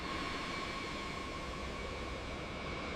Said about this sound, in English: Pilots account for the wind as they guide the bomber along the taxiway.